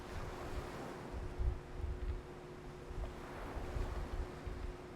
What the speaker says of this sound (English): I'm getting like surround sound ocean